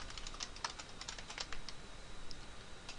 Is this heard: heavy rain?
no